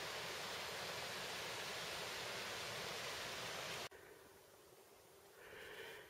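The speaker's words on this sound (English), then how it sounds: "we can hear the falls and the creek" Steady broadband rush of a waterfall and creek beside a backcountry camp near Stuart Falls on the Pacific Crest Trail in Oregon, loud and continuous at first, then dropping to a softer, more distant wash.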